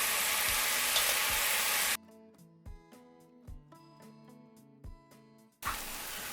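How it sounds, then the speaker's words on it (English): Onions and garlic frying in a pan for tomato soup, a dense sizzle that stops for a stretch of quiet soft music with a few dull knocks, then comes back at the end, with no talk. "Once those onions begin to cook, we're going to drop in 2 tablespoons"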